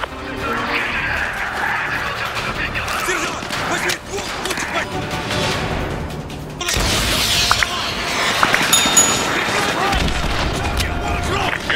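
Missile strikes and gunfire in the Call of Duty MW2 remastered mission Contingency, with booms and blasts under a dense, loud battle din that swells after an abrupt cut.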